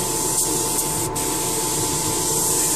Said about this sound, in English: I'm not sure how to clean out Vallejo paints out of my paint airbrush.